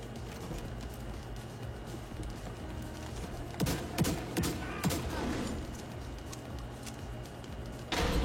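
Video game gunfire, bursts of sharp shots in quick clusters over a busy background, a few louder volleys mid-clip and near the end.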